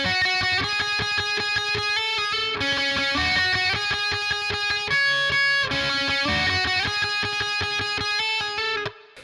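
Electric guitar playing a riff, a steady run of distorted picked notes repeating in a looping pattern, loud and continuous with no talking.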